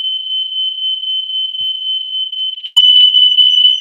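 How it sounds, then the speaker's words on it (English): A household smoke alarm sounds a steady, piercing high tone. It breaks off briefly, then comes back louder and harsher, with no voices over it. "the smoke alarm is going off"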